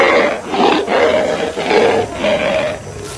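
A lion roars loudly in a series of long, repeated roars that rise and fall over a few seconds, close and alone with no talking.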